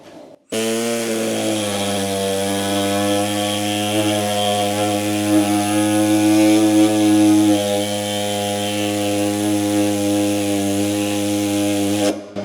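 A power saw whines at a steady high pitch, running loud and close without a break while cutting a workpiece during a home engine build.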